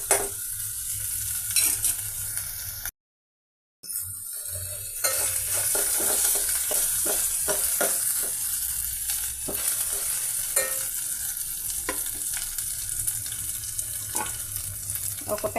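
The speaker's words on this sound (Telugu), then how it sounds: "పచ్చిమిర్చిని ఫ్రై చేద్దామండి ఆయిల్లో." Green chillies and pieces frying in hot oil in a pan for a tomato paneer curry, a steady close sizzle with repeated scraping stirs throughout, broken by one brief silent gap.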